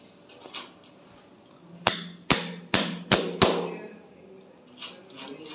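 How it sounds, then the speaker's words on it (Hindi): A fastener driven into a wall with a hammer during an electric geyser installation: five sharp, loud metallic blows in a quick, uneven sequence, with fainter knocks before and after. "तो चलिए हम इसको दीवार में ठोक देते हैं।"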